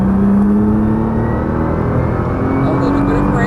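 A Nissan GT-R accelerating on a racetrack, its engine droning loud and steady with a rising tone throughout, heard from close by.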